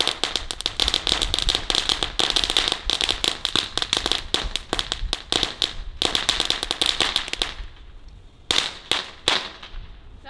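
Lidl firecrackers go off in a dense, continuous string of loud snapping cracks for several seconds, then thin out into a few isolated pops near the end.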